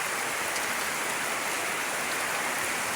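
Heavy rain pours steadily and densely on surfaces, a loud, even, unbroken hiss of falling water close by, with no voices.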